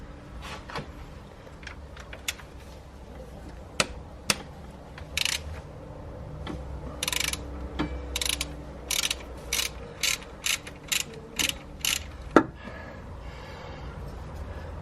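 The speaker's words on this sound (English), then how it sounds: "take this 13mm bolt out here and remove this tensioner" A ratchet wrench clicks in bursts while undoing a 13mm bolt on the belt tensioner of a Mk2 Ford Focus RS, with a run of quick, even ratcheting strokes close by.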